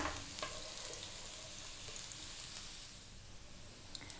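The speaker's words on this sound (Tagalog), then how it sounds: "At ilalagay na po natin yung ating chopped garlic. So itutusta lang natin siya" Chopped garlic toasting in a frying pan for Filipino skillet pork chops, giving a steady soft sizzle and faint crackle, with a brief stir or clink near the start and end and no talk.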